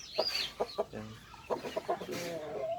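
Shamo Aseel roosters fighting, with clucks and agitated squawks in short bursts close by. Faint voices can be heard in the background.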